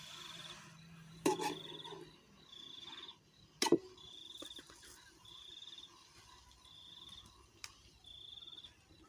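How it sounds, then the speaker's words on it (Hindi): Quiet night outdoors in a countryside village with a cricket chirping in regular bursts, a few faint clicks and knocks nearby, and no voices. "गांव में रात का सीन कुछ इस तरह से होता है, कोई शोर शराबा नहीं, हर तरफ सुकून ही सुकून।"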